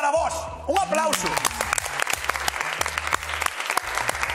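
Audience applause fills a festival-night cooking demonstration of sweet treats, a full, steady burst of many hands clapping together, with voices talking over it.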